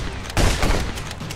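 Gunfire in the Contraband Police video game, a sharp burst of automatic shots starting after a brief pause and rattling on in quick repeated cracks, loud and close, with no talking.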